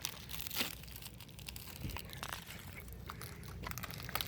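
Paper sealed with tape is torn and crumpled up close, giving a run of rough, crackling rips and crinkles that continue for several seconds without talk.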